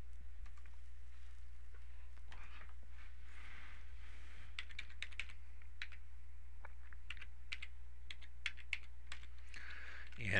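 Typing on a computer keyboard while logging in to an email capture page system: steady clusters of light key clicks over about ten seconds, close and fairly quiet above a low steady hum, with a brief pause in the middle.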